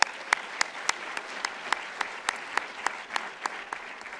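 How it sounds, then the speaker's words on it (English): A live-streamed Leadership Montgomery event audience gives a steady round of applause, dense hand claps at even strength with a few sharper individual claps standing out, no voices over it. "let's just give them all another round of applause."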